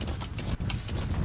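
Horse hooves clip-clop in a quick, steady rhythm, close and moderately loud, with no voices, from the video game Metal Gear Solid V: The Phantom Pain.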